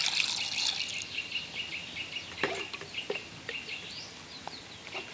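A baby chicken loose indoors in a room, with short high cheeps and clucks scattered over about five seconds, close and fairly quiet, over a faint watery background hiss, no voices.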